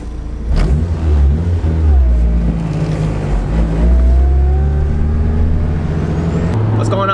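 Honda NSX sports car engine pulling away and accelerating while driving, a loud droning rise in revs heard from inside the car, with a person talking over it.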